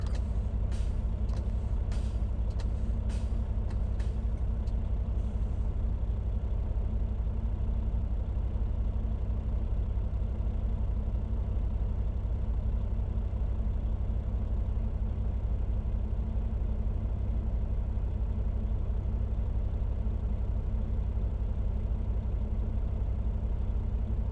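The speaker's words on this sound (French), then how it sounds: "on part le camion et on baisse la pression pour vérifier à quelle pression le compresseur va actuer" A truck idles while its air brake pressure is pumped down to check when the compressor cuts in, with a rapid series of sharp air bursts early on, then a long steady engine drone.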